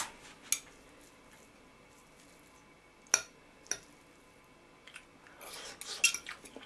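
A fork and other cutlery clink against a plate while someone eats a home-cooked meal, several sharp isolated taps spread out over the moment, then a denser cluster of scrapes and clicks toward the end, all close and without talk.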